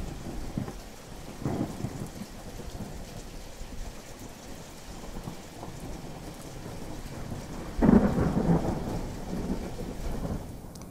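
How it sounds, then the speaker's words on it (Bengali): A heavy thunderstorm with steady pouring rain and several deep thunder rumbles, the loudest crash rolling in near the end, with no voices. "তারপর শুরু হলো তুমুল ঝড় বৃষ্টি।"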